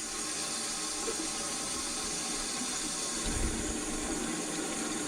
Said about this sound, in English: the water will come down here from the sink